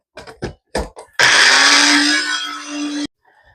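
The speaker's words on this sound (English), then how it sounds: "and start blending" A blender runs at full speed for about two seconds, crushing garlic and cabbage for kimchi. A few short pulses come first, then a loud steady whir that stops abruptly, with no talking.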